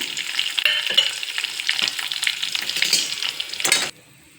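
Mustard seeds, garlic, curry leaves and green chillies crackle and spit in hot oil for a garlic curd rice tempering, a busy close sizzle with stirring that stops abruptly near the end.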